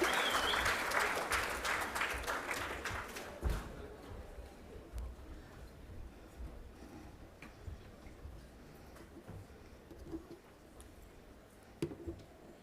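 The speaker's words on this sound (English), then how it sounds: "Please give a round of applause to the cohort for their amazing pitch this evening." An audience at the Africa Prize for Engineering Innovation final applauds a cohort's pitch, the dense clapping strongest at first, then thinning into scattered claps and taps that fade toward near quiet.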